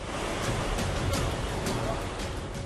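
Rain-swollen floodwater rushes down from the hills toward the Hathnikund barrage on its way to Delhi, making a loud, continuous roar of churning water with a windy rumble and no gaps.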